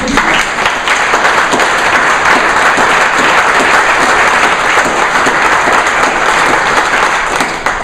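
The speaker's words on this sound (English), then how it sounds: "I think both of you deserve a round of applause" An audience at a school board regular meeting in Latrobe, Pennsylvania breaks into steady, dense applause that holds loud and even from start to finish, with no talking over it.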